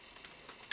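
A few quick computer keyboard keystrokes, soft and close, typing a command on a Raspberry Pi, with the last tap slightly louder, all within under a second.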